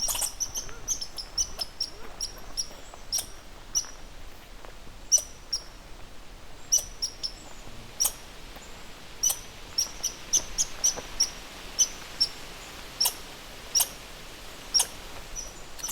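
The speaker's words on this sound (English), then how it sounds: "angry red squirrel" An angry red squirrel in a forest chatters in sharp, rapid bursts, repeated at irregular intervals against a quiet woodland background.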